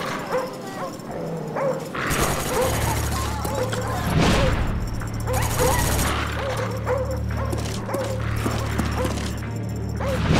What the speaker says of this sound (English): Friendly dogs inbound.